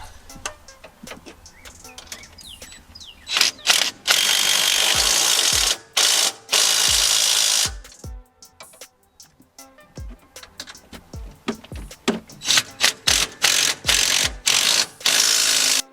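A ratchet tightens 15 mm nuts on King 3.0 coilovers for a 2007-2018 Silverado/Sierra 1500 4x4, with loud, close bursts of rapid clicking that start and stop repeatedly, some long runs and some short, without talk.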